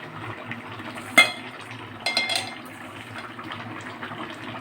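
Ridge gourd and Malabar spinach leaves go into a simmering pot, with a faint bubbling bed, a sharp clink and a short splashy rustle as they drop in, with no speech.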